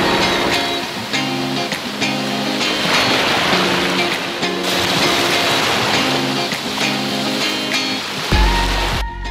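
Caribbean sea waves breaking at a Dominican Republic beach, a steady broad wash of surf that runs unbroken and fairly loud throughout, with a brief shift in texture near the end.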